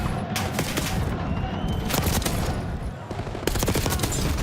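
Dense, continuous gunfire from Call of Duty Black Ops 6 in a live esports match, rapid overlapping shots and bursts with a few sharper cracks, loud and busy over crowd and caster ambience.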